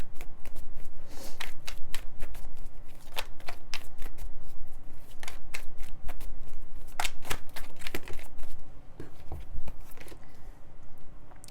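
Tarot cards are shuffled by hand in quick bursts of crisp riffling and flapping, repeated close and steadily throughout with no talking.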